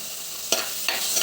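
Crushed ginger, garlic and fennel frying in a pan for a sardine curry, a steady bright sizzle with two sharp stirring scrapes, no talking.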